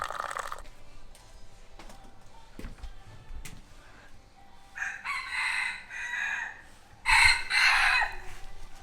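A rooster crows in the morning at a rural stop in Laos, with two loud, drawn-out calls near the end following quieter background sounds and faint clicks.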